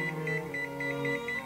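A kitchen timer gives a quick series of short, evenly spaced electronic beeps as it is set, close and clear over a low hum, with no talking.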